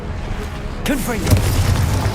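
Confringo, the explosive spell in the video game Hogwarts Legacy, erupts as a sudden booming burst about a second in, followed by crackling spell effects under a steady game soundscape, with a voice briefly calling out.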